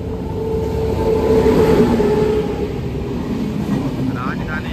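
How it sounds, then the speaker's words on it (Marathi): A Rajdhani Express passes on the Konkan railway near Kudal as a broad, loud rushing rumble that swells and fades, with faint tones and voices around. "राजधानी एक्सप्रेस"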